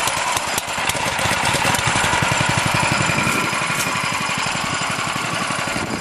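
A homemade go-kart engine runs loud and close with a rapid rough putter and steady mechanical clatter throughout, after a short burst at the start.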